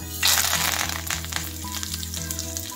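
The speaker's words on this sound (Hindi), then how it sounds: "हम ये सब मसाले अब इसमें डाल देंगे," Spices hit hot mustard oil with a sudden loud sizzle that crackles and settles into steady frying, with background music underneath.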